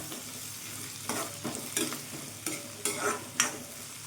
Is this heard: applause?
no